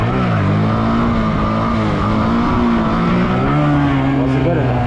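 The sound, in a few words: motorcycle engine revving during a wheelie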